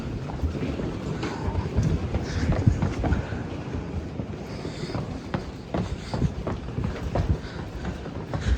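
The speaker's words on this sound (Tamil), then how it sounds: "ஒரு வழியாக ட்ரெயின் ஏறியாச்சு" A train runs on rails with a steady low rumble, irregular clatter and rattles from the carriage, and a continuous noisy wash throughout.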